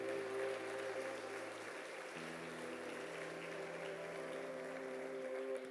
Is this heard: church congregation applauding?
yes